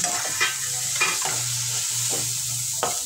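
Chopped tomato fries in a spice masala for egg curry, a close, steady sizzle punctuated by the rhythmic scrape and knock of a spoon stirring the pan.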